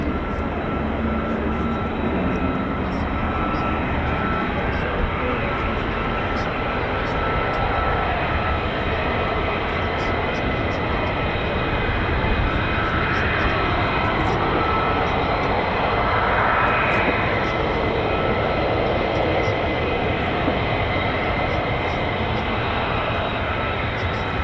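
A military fighter jet, an F-15 or F-35 of the 48th Fighter Wing at an RAF base, taxis with a continuous loud, broadband engine roar that holds steady throughout at a moderate distance.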